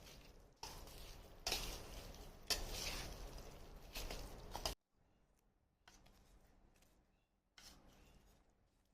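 Chopped raw mangoes being stirred into jaggery syrup for a pickle, with wet scraping and rubbing of a spoon against the pot in bursts, louder at first, then softer, separated by short quiet gaps.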